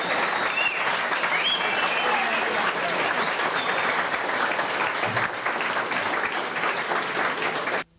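Sustained, dense audience applause fills a 1988 concert, a steady loud roar of clapping hands that continues evenly before cutting off abruptly at the end.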